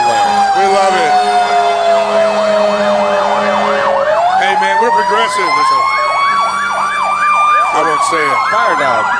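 A loud fire truck siren wails continuously, sweeping up and down in a wavering cycle that shifts pitch midway, very close and dominating.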